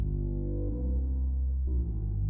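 Knifonium synth plugin playing low, buzzy sustained notes with glide switched on, pitch sliding smoothly from one note to the next, steady and fairly quiet with no voices.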